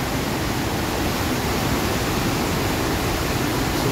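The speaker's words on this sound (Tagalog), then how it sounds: "Kusog kayo ang baha sa kanal." Steady, dense rushing of fast-moving floodwater in a canal after sudden heavy rain, a constant loud roar with no pauses and no voices.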